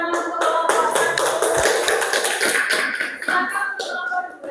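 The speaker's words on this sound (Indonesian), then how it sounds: "Tepuk tangan untuk kelompok 1." A classroom group claps for the first presenting group, a dense and steady patter of many hands close by that runs the whole time and thins slightly near the end.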